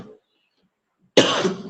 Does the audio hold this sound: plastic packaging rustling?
no